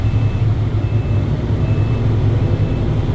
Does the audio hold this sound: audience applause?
no